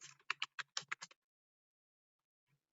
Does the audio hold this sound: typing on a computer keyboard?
yes